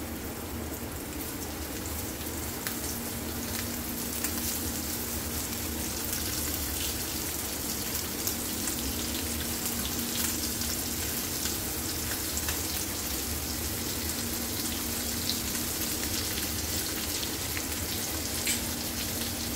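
Fish fries in a pan with garlic, a steady, dense sizzle and crackle that runs continuously at moderate level without pause.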